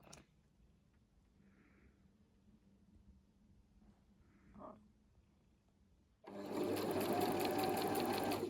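Sewing machine stitching blouse fabric, starting suddenly after a quiet stretch with faint background noises and running loud and steady for about two seconds close by.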